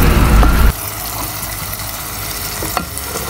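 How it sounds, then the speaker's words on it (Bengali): Fish pieces for a Bangladeshi rita fish curry stir-fry in hot oil in a pan, a loud burst of sizzle at the start settling into a steady frying hiss with occasional scrapes of stirring. "মাছটা দেওয়ার পর আস্তে আস্তে করে নেড়ে দিব আবার।"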